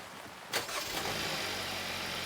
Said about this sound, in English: So Ian, go ahead and start the engine.